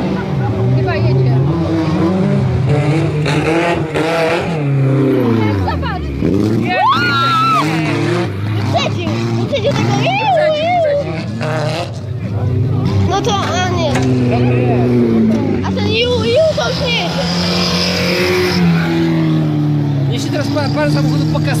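Wreck race cars on a track at Świętochów, engines revving loudly and continuously with changing pitch as the cars pass, under constant crowd chatter and nearby voices.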